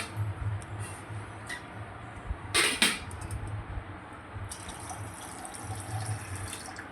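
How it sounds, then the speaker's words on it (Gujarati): Water is poured into a pot for cooking Maggi noodles, heard as a short splashing burst in the middle over a steady low kitchen hum, with no voices. "થોડું બીજું પાણી નાખી દઈશું"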